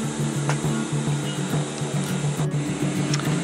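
Sewing machine stitching straps for a DIY rollup bag, a continuous close mechanical hum with rhythmic needle thumps and a few brief pauses in the run.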